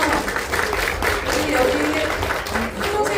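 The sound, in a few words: audience applause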